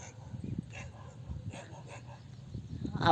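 Dogs bark and whimper in short, scattered bursts at a moderate distance, over a low rumbling background.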